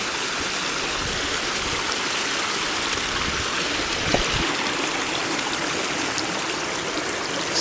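Steady, loud rushing of a creek flowing along the Upper South Fork Skokomish trail in high water, a continuous broadband wash of moving water with no voices.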